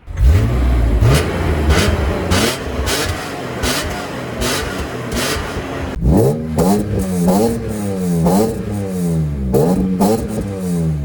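A sports car engine revs hard and accelerates, loud and close, with rising and falling sweeps of pitch through gear changes and mechanical clatter at the start.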